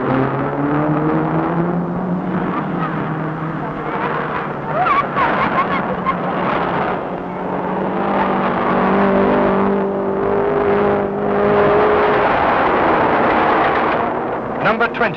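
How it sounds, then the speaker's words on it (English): Production cars of 1300cc race on ice, their engines droning and rising in pitch as they pass, with steady broadband roar and shifting engine tones throughout. "here's the 1300cc race for production cars"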